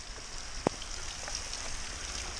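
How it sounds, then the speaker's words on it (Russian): Raindrops fall during a motorcycle trip, a steady wash of light patter with one sharp, close tap near the start. "Видите, капли дождя?"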